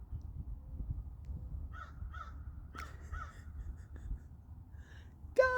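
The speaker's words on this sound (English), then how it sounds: "That's the crow." Crows caw in an open wooded setting, with a few short, distant harsh calls spaced through the quiet, then a louder, nearer burst at the end over steady low background rumble.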